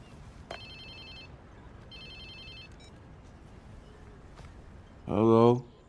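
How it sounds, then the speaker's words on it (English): A phone rings inside the Watch Dogs 2 video game: two bursts of high electronic ringtone, then a loud, close warbling ring near the end, over steady background noise with talk. "Whose phone is this? It's your new phone."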